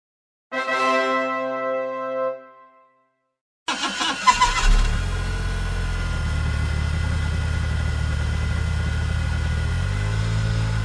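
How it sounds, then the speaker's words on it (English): A short musical tone, a pause, then a car engine cranks and starts, settling into a steady low rumbling idle. "Let's start the engines."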